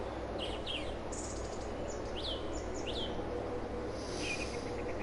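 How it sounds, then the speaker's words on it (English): Several short, bright bird chirps come in quick scattered bursts at a moderate distance over a steady low outdoor hum, with no one talking. "The birds startled me because,"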